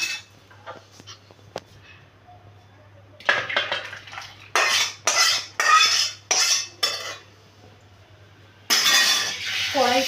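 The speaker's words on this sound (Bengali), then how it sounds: "এবার আমি ডালটাকে নামিয়ে দিচ্ছি" A metal pot of boiled mung dal is handled on a kitchen stove, giving loud clattering and scraping bursts of metal cookware in several short bouts with quiet gaps between.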